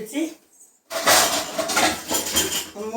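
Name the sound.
lid placed on pot of dried fish gravy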